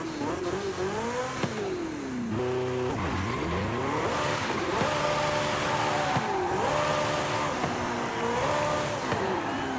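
V8 hybrid engine of a race car in Forza Horizon 5, revving hard through rising and falling gear shifts, with tire squeal and skidding under a loud, continuous engine note.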